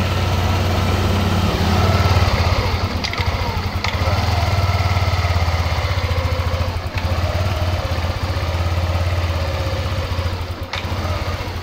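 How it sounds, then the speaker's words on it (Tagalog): Yamaha NMAX scooter engine with an ignition coil fault idles loudly and steadily close by, its rough running wavering slightly, with a few brief clicks along the way. "So napansin nyo yung idle niya unstable, and then nababa na taas hanggang sa mamatay siya"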